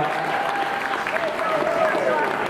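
Crowd applause at a CD launch party for a rapper, a steady wash of clapping at fairly close range with a tonal sound and a voice running over it throughout.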